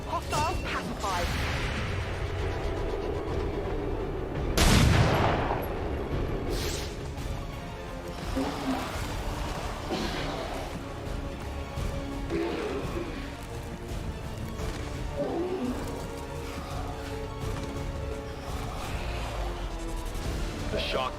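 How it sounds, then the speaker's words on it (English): An explosion in a video game set in a city, a single loud blast partway through that sits among steady game noise and ongoing speech. "The shockwave of that explosion reverberated throughout most of the city."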